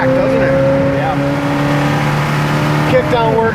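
A 1971 Chevrolet Camaro RS split-bumper accelerates at full throttle with the kick-down engaged, giving a loud, steady engine drone heard from inside the car that holds a sustained pitch and shifts slightly near the end.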